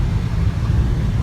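A Jaguar F-Pace accelerating in sport mode, heard from inside the cabin as a dense, low, steady engine and road rumble lasting about a second, with no clear changes in pitch.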